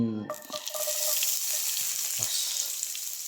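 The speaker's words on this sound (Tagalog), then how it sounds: "Umpisahan na natin maggisa." Garlic sautés in a little oil in a frying pan, giving a loud, continuous bright sizzle that starts abruptly after a brief bit of music, with a few soft stirring knocks beneath.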